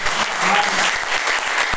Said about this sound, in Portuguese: Desocupe as suas mãos e dê a melhor salva de palmas.